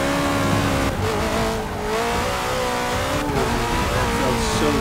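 A race car in Forza 6 holds a loud, continuous engine roar as it accelerates hard, its pitch rising and shifting through the gears.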